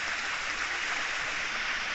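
Steady rushing of stream water near a waterfall at Kona Malleswara Kona, Venkatagiri, a dense continuous hiss close by and unchanging in level throughout.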